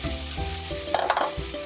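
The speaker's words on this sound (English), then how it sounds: "We're gonna saute our ginger," Ginger sautés in hot oil in a pan, a steady close sizzle with a brief burst of stirring clatter in the middle, no voices.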